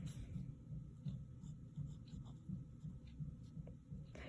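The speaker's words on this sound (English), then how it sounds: "I'm going to write down my steps." Pen or pencil writing out math steps by hand on paper, a soft continuous scratching with faint repeated strokes under a steady low room hum.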